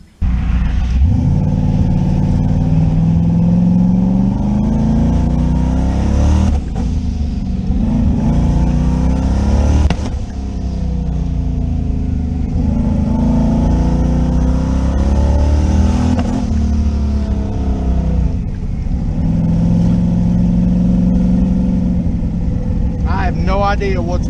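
A car engine drones steadily up close, rising and falling with revs, with intermittent sharp pops and crackles from the exhaust as it drives.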